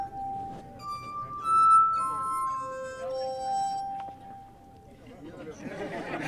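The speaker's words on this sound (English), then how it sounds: "It's called a glass harmonica." A glass harmonica, played by a wet finger rubbed around wine-glass rims, sings a slow sequence of pure, sustained ringing tones, each glass note held and overlapping the next, with faint voices murmuring beneath and chatter rising at the end.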